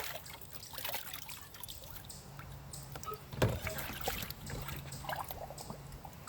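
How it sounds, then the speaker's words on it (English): Clear water runs and trickles while glassware, including a beer-coil cleaning setup, is rinsed out, with soft splashing and one sharper knock midway. "then you just rinse it out with clear water"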